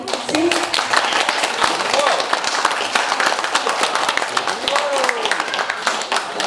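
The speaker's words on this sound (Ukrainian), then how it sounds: "Оплески наші." Guests at a birthday celebration clap their hands in a lively, uneven burst, sharp individual claps up close with chatter and voices mixed in throughout.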